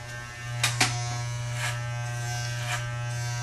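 Electric hair clippers fitted with a number 4 guard cut dry short blonde hair, a steady close electric buzz broken by several brief louder snips as the blades pass through the hair.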